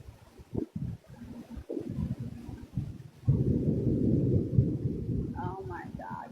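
Thunderstorm with a deep, loud rumble of thunder rolling in low and sustained from midway on, preceded by softer rumbling bursts, with a brief faint vocal sound near the end.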